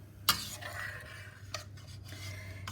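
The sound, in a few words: stirring soup in a pot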